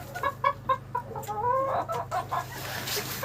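Bantam chickens cluck nearby in short, choppy bursts, some calls rising into longer squawks, with a low steady hum underneath.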